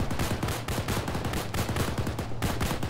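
Rapid volleys of gunfire in the military game ARMA during a desperate defence, loud and dense with overlapping shots and quick bursts that continue for the whole stretch, with no talking.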